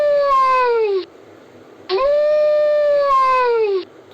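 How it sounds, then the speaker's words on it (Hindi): A jackal howls twice, a shorter falling call followed after a pause by a longer, sustained one that drops in pitch at its end, both close and clear over faint background noise. "सियार हुआ हुआ करता है"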